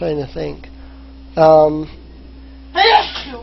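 A single sharp human sneeze close to the microphone during a tabletop role-playing game session, set between stretches of nearby talk.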